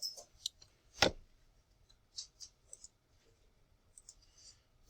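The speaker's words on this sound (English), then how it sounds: "all you really have to do is type in to the Desmos calculator" Desmos calculator equations are typed in as a handful of sparse, light clicks and taps spread unevenly, with one sharper click standing out, quiet and close with no voice.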